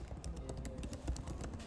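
Steady computer keyboard typing taps away in a quick, even patter of close, faint keystrokes with no talking over it.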